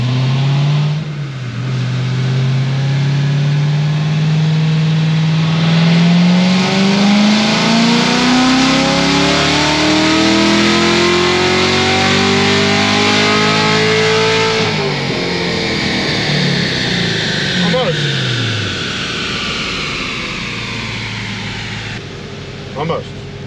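A Corvette C7 Z06 with headers, a new air intake and a supercharger makes a long, loud full-throttle dyno pull, its engine note climbing steadily in pitch for about fifteen seconds before dropping off as it winds down.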